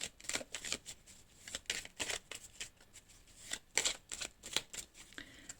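Tarot cards are handled and drawn in a quiet room, giving crisp, intermittent riffling and flicking bursts separated by short pauses, close and soft, with no speech.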